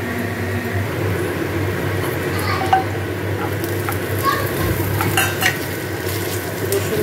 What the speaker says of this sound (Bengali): একটুখানি লাল লাল করে ভেজে নেবো পেঁয়াজগুলো আগে